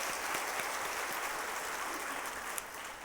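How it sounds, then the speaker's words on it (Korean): A church congregation at a Wednesday evening worship service claps to cheer on visiting flight attendants, giving dense, even applause that stays loud and then tapers slightly. "우리 격려 박수 한번 하겠습니다"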